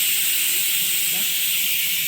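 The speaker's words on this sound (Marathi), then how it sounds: "डावरण भातचा कुकर लावला आहे" A pressure cooker of dal and rice venting steam in a home kitchen, a steady high-pitched hiss running continuously and fairly loud, with a faint low hum beneath.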